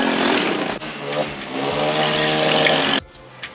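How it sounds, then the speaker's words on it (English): A tree chipper runs during lawn and tree clearing work, a loud, rough mechanical roar close by that dips briefly, then grinds on steadily before cutting off sharply near the end, leaving quieter background noise. "And we got the tree chipper."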